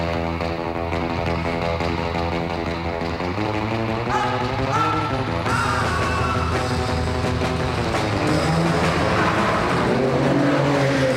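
A Vector M12 supercar engine roars loudly and continuously, its pitch climbing and falling through gear changes as the car accelerates, with a rich layered exhaust note and no speech over it.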